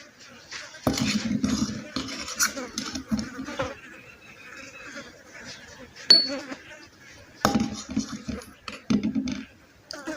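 A spoon clinks and scrapes in a small container as crushed tablet powder is mixed into a spoonful of flour, in uneven bursts of close scraping and tapping with quiet gaps between.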